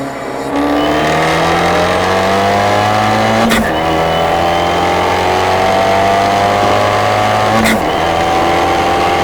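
An Abarth 124 Spider automatic engine revs hard and climbs through the gears in a 40 to 100 pull, pitch rising steadily with two brief shift breaks, loud and continuous from inside the car.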